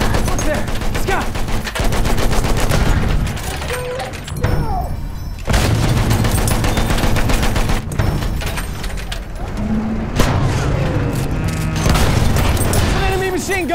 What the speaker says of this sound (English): An enemy machine gun! Machine gun!